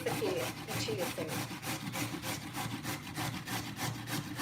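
A carrot is rubbed on a grater for soup, making quick rhythmic rasping strokes, close and fairly steady, with faint talk in the background.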